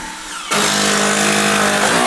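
Power drill driving screws into a budget DIY workbench: a sudden loud, steady motor whine kicks in after a brief quieter moment and holds at full volume to the end, close by with no talking.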